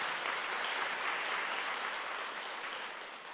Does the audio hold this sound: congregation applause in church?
yes